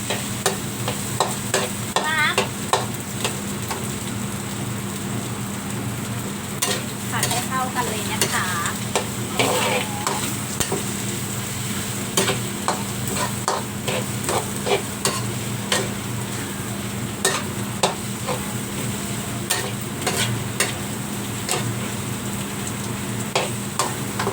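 Vegetables being stir-fried in a pan for a rice dish, with steady sizzling and repeated scraping, clacking strokes of a utensil against the pan, close and continuous.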